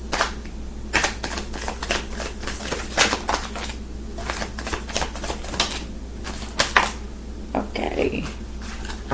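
Tarot cards shuffled and drawn, with rapid, dense riffling and snapping bursts repeating close up over steady low background hum, with a brief voice near the end.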